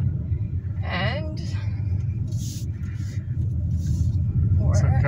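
Nissan car driving around a short course at Canadian Tire Motorsport Park, its engine a steady low rumble heard from inside the cabin, with people talking over it throughout.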